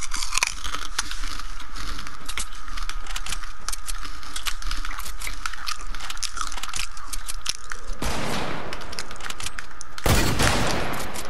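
Rapid bursts of video game gunfire during a sniper battle, loud crackling shots in dense succession, with sharper blasts near the end.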